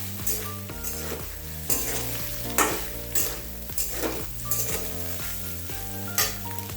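Soybeans fry in hot oil in a pan for kurma, a dense continuous sizzle broken by repeated scraping stirs, with tonal ringing from the pan running throughout.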